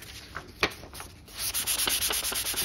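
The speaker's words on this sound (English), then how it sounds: "Taking the sandpaper" Sandpaper rubbed back and forth over a wooden table surface, starting with a few scattered scrapes and taps, then settling into steady, close rhythmic strokes, with no talking.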